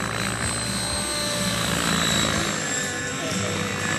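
An electric model helicopter whirs steadily nearby with a buzzing rotor drone, partly masked by voices talking in the background.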